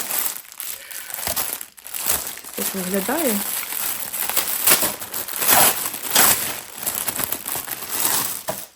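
Plastic packets crinkle and rustle steadily throughout, close by, while someone talks over the handling noise.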